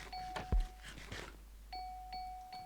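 Synthetic bell chimes in Minecraft ring out in a simple pattern, a sustained tone then two more after a pause, with a soft thump early on.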